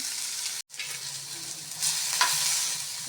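Country chicken masala fries in a pan with a constant bright sizzle, broken by a brief silent gap early on, then stirring noises with the frying hissing steadily underneath.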